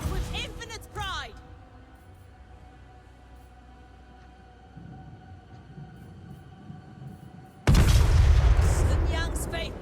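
A heavy booming cannon blast erupts near the end in Total War: Warhammer 3, loud and rumbling, after a stretch of low clattering battle noise with a brief voice shout early on.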